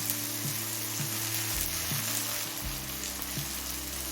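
Cumin paste sizzling in a pan with tomatoes melted down over heat for rice khichuri, a steady close frying crackle and hiss with a few soft stirring scrapes, no voices.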